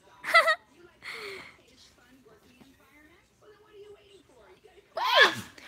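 A sharp sneeze bursts out near the end, after a few quieter breathy sounds and soft vocal noises.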